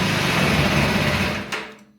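Engine of a KTM 390 Adventure R motorcycle running steadily at high revs, a dense, loud buzzing drone that cuts off abruptly near the end, leaving a brief fading tail.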